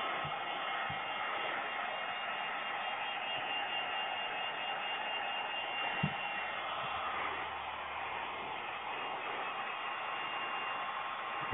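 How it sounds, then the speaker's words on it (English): A heat gun blows a steady, even rush of air while warming window tint film on a 2011 Toyota Camry, a constant broadband hiss with one faint tap partway through and no voices. "When the heat gun first starts out, it's not blowing very hot, so you got to kind of work it."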